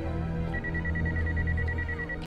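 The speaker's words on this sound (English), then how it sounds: "Cell phone is ringing." A cell phone ringing in the horror movie Scream 6, an electronic ring tone repeating steadily over a low movie background hum.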